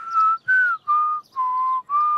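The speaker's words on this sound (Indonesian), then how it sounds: "Bersiul membutuhkan banyak latihan." Five clear whistled notes in a row from the children's cartoon Bing, each held briefly with short gaps between them, close and steady in pitch.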